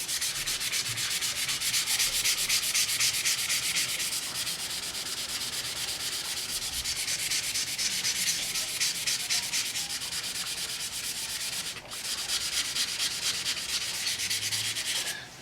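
Car paint surface being sanded smooth by hand, a continuous close rasping rub with a steady back-and-forth rhythm and one brief pause near the end, with no talking.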